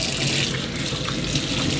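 Water runs steadily from a tap as a Gtech AirRam vacuum cleaner part is rinsed, a loud, continuous splashing rush close by with no voice.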